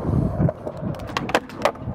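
A skateboard popped and landed outdoors on a windy day: a few sharp wooden clacks and scrapes over a low rumble of wind, close and fairly loud.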